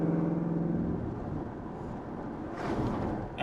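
A 2015-2017 Mustang GT with a Corsa Sport exhaust cruising at about 35 mph, its engine a steady low rumble with wind noise from an open window and a brief swell near the end.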